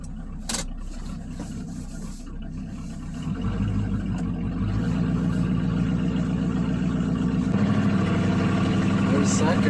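A 2002 Ford Ranger with a 351 Windsor V8 idles roughly, with timing slightly off and the carburetor out of adjustment, giving a steady low rumble that grows a little louder and fuller partway through while a person talks over it.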